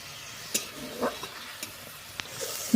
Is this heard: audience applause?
no